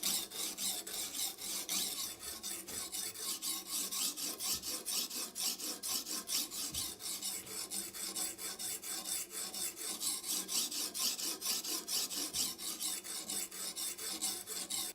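A knife edge is sharpened on a coarse-grit stone with liquid, in a steady back-and-forth rasp of even, rhythmic strokes that runs continuously and close at hand.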